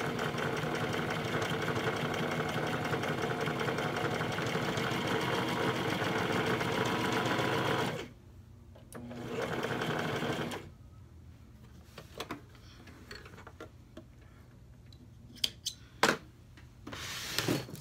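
A sewing machine runs steadily for about eight seconds while a fabric seam is stitched with right sides together, then stops; softer handling of the fabric and small clicks follow in a quiet room.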